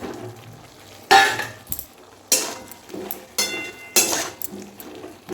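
Metal spoon scraping and clinking in a pan as a masala is stirred and tomatoes are tipped in, with several sharp bursts of stirring between quieter sizzling moments, close up.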